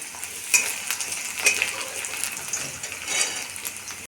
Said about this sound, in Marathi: कांदे सोनेरी होईपर्यंत आपण त्यांना फ्राय करून घेऊ।